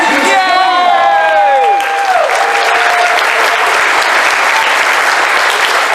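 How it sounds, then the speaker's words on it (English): Convention opening-ceremony audience applauding, a dense, loud wash of clapping and cheering from a large crowd that holds steady throughout, with an amplified voice and whoops riding over the start. "Round of applause."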